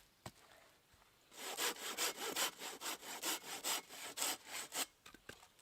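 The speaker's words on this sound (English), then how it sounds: "And the silky saws, they cut on the back stroke" A Silky hand saw cuts small pieces of punky wood with rapid back-and-forth rasping strokes, about fourteen in an even rhythm, close and clear after a quiet start with no talk.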